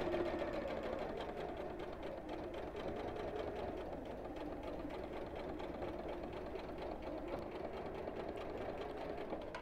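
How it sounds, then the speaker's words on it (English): A sewing machine top stitching close to the fabric edge of a purse runs in a continuous, even mechanical whir with a fast rhythmic knock, steady and near throughout with no talk. "And sewing really close to the edge, so maybe an eighth of an inch away from the edge."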